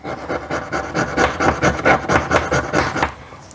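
A fire starter striker is scraped repeatedly along a ferro rod, giving a run of close, rough rasping strokes in a quick steady rhythm.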